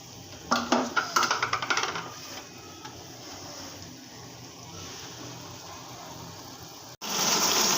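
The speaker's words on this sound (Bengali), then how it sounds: "আমি ঢাকনাটা দিয়ে ঢেকে রাখব" A metal lid goes onto a cooking pot of greens with tomato, making a quick series of rattling clinks as it settles, followed by a steady background hiss and a louder rush at the end.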